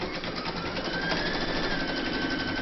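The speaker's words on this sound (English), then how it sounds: "Load your file into your machine, and then you're going to stitch round number 1" Embroidery machine stitching the placement outline for an in-the-hoop dove of peace cross, a steady continuous mechanical whir with a fast even stitching pulse, close and moderately loud with no talk.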